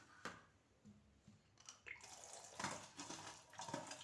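Mint and curry leaves are rinsed under running water, with a faint stream of water rising into splashy rushing as the herbs are washed.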